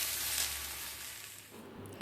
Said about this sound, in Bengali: তো আমরা দেখো এটা ভাজা ভাজা হয়ে এসছে